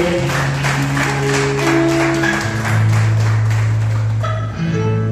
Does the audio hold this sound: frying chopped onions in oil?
no